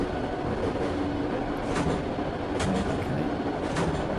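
A subway train in a train-driving game, running steadily with a constant rumble and rolling wheel noise, continuous and close, with one brief spoken word over it.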